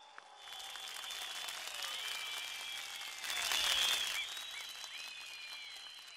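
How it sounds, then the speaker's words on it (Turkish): A large crowd at an outdoor political rally in Edremit, Balıkesir, applauds steadily for about six seconds. There are some whistles, and the clapping swells louder near the middle before settling back. "Hep birlikte kuvvetli alkışlarınızı duymak istiyorum."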